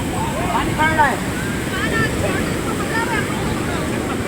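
Sea waves washing and splashing at Manora Beach, Karachi, a continuous broad roar with wind buffeting the microphone, while voices shout and chatter over the surf.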